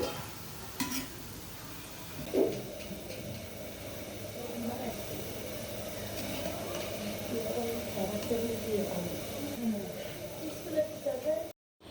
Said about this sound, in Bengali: এই চিপসটা আমি খুব সময় নিয়ে ভাজবো যেন মচমচে হয়